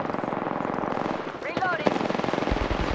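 Rapid automatic gunfire from Apex Legends rattles along in a steady rhythm, a sharper burst cuts in near the end, and a voice calls out over the shooting.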